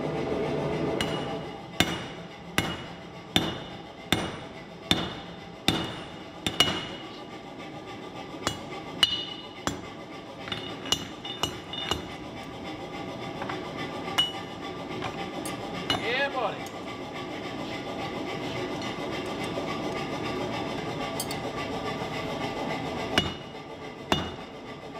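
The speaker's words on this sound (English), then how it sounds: "I'm going to be upsetting that in the hardy hole of my smaller anvil" A hammer forges a giant meat fork on an anvil's hardy hole, ringing metallic blows in a quick, regular series at first, then sparser scattered strikes over a quieter background.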